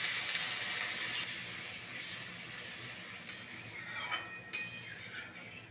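Water poured into a pan of frying spiced potatoes for a fish curry, a loud broad sizzling hiss that cuts back sharply, then softer bubbling with a few light utensil clinks, no talking.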